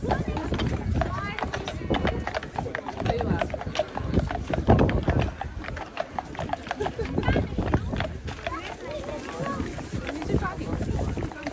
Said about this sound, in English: there we go, the police horses.